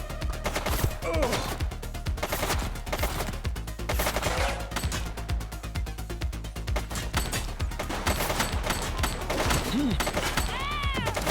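Dense, continuous gunfire in The Precinct, rapid crackling shots layered with sirens and shouting voices, loud and busy from start to finish.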